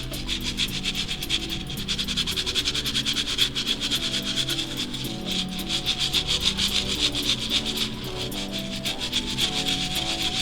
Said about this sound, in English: I'm going in with a little bit of a harsher